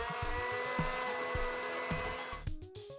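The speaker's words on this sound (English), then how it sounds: "Process a cheesecake in a blender." A blender whirs while processing cheesecake, a steady motor drone broken by rhythmic thumps as the contents churn, ending in a few louder knocks.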